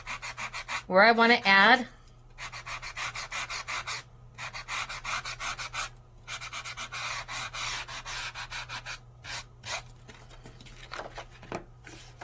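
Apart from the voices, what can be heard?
sanding embossed Revealz paper with a sanding grit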